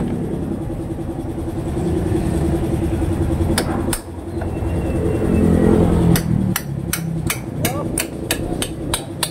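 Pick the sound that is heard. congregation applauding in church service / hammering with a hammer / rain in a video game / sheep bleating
hammering with a hammer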